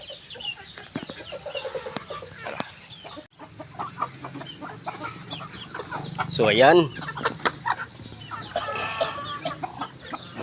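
Native chickens on a backyard farm cluck and a rooster calls among them, with one louder burst of squawking near the middle over steady farmyard background, while people talk intermittently nearby.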